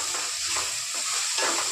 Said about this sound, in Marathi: मिरची थोडी झाल्यावरती आपला कांदा टाकायचा. ठीक परतून घ्यायचा.